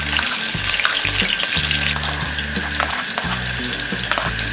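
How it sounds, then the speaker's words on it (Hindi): Green chilies, sliced onion and spring onion greens fry in hot oil over medium to high flame, a loud continuous sizzle with rhythmic stirring scrapes, close and alone. "ये सारे वेजिस हम मीडियम टू हाई फ्लेम में फ्राई करेंगे।"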